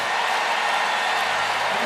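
A Paralympic swimming crowd at the Paris 2024 pool cheers for a Mexican swimmer in a loud, dense, continuous roar of applause and voices.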